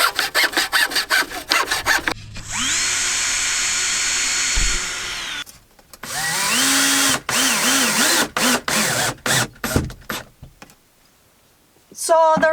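A power drill drives screws through wall boards inside a van conversion, with long whirring runs rising in pitch, then a series of short bursts and stops as each screw seats, loud and close.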